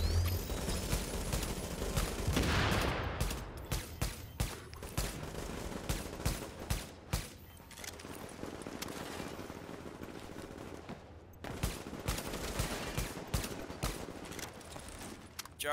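Sustained automatic gunfire from a team firefight in The Division on PC, a dense continuous barrage of overlapping rapid shots and bursts throughout, steady and loud with brief lulls.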